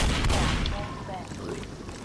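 Gunfire in Left 4 Dead aimed at a helicopter in the subway level: rapid overlapping shots, loud and dense at first and then thinning, with voices shouting over the shooting.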